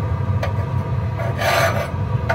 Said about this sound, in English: scrape the walls of the heat exchanger